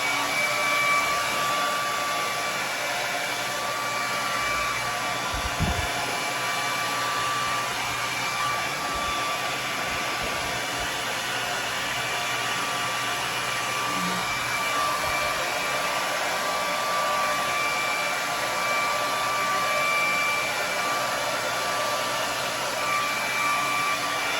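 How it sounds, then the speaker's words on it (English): A handheld blow dryer runs on high heat drying wet type 4 natural hair, a steady loud whooshing roar that holds for the whole stretch with only small shifts as it moves. "The one thing I do like about this blow dryer is I could grab it down here and it's not gonna get like really, really hot."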